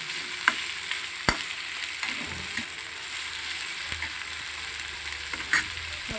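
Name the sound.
onions, capsicum and tomatoes frying in pan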